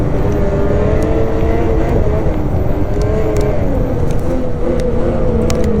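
A BRP Lynx 850 snowmobile engine drones loud and close, its steady revving pitch rising and easing as the sled runs along, with no voices over it.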